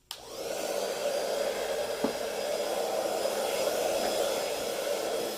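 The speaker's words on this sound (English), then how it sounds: "This gun is pretty powerful, blower or whatever." An air blower gun used for painting lets out a loud steady rushing hiss that starts suddenly and holds constant for several seconds, with no talking over it.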